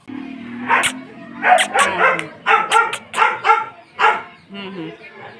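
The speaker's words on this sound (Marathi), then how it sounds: "आमच्या मम्मीने कुत्र्याला घेतल्या म्हणजे स्वीटी कशी करल्या बघा." A dog gives a run of close, loud, excited barks and yips in uneven bursts, with brief quiet gaps between them.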